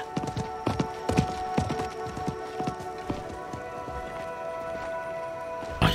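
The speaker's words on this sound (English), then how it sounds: "I think that was the merchant's horse." Rapid, close horse hoof clip-clops in the game Diablo 4, a dense galloping rhythm that thins out over about five seconds over steady tonal music.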